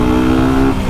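A truck rumbles close by, a loud steady engine drone with a low humming tone that eases slightly toward the end of the brief moment.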